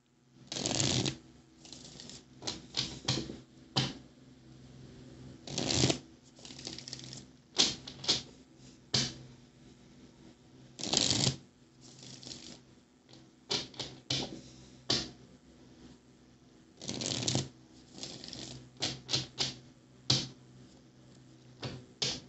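Crisp bursts of cards being shuffled, about a dozen riffles at irregular intervals over quiet room tone, close and fairly loud.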